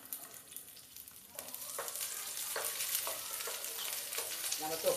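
Onions, garlic and ginger sauté in a pan for a tangy relish, starting with quiet scraping stirs and building into a steady close sizzle with repeated spatula scrapes and clicks, no voices.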